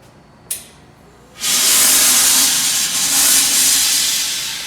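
Steam is blasted into a home oven holding sourdough loaves, first a sharp click, then a loud sustained hiss close by that slowly tapers off.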